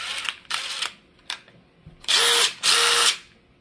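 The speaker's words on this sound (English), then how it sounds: "this is where the power tools come in" A power drill driving screws during a brushless motor upgrade on a Traxxas TRX4M RC truck, several short whirring bursts followed by two longer, louder runs at full torque, close by with no talk.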